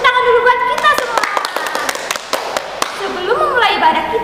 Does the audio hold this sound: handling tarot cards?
no